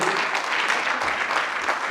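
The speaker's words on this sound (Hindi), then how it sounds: "जोरदार तालियां बजा दीजिए।" Loud, sustained applause from a large audience at a public event, a dense continuous wash of clapping with no talking over it.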